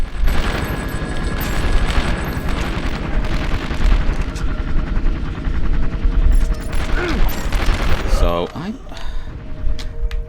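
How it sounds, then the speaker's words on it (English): Dense, loud gunfire and rumbling action sounds from a helicopter shootout in 24: The Game, running continuously, with a sweeping whine near the end. "So the mission I was given was not to allow the helicopter to land"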